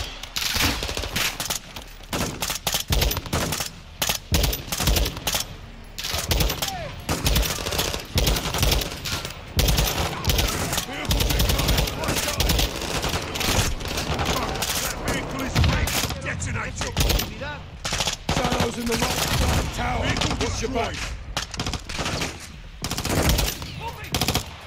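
Sustained automatic gunfire from a Call of Duty Modern Warfare 2 battle, dense bursts of rapid shots overlapping loudly and continuously with occasional heavier impacts, while voices speak intermittently underneath the firefight.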